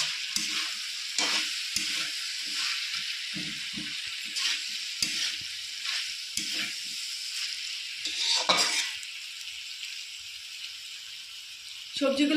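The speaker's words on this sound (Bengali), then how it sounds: "আমি হালকা করে ভেজে নিয়েছি" Vegetables for a Bengali kajoli fish chorchori fry lightly in a pan with a steady sizzle, broken by repeated stirring scrapes and clinks of the utensil, moderately close, with no talk.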